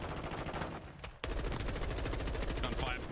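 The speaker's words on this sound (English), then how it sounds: "Gunfire prattling out across the map." Rapid gunfire from a Call of Duty League match, bursts of automatic weapon fire rattling across the map, continuous and loud with a sharp jump in intensity partway through, under a caster's voice.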